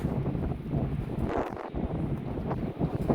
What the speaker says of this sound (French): Il y a trop de vent, on capte pas.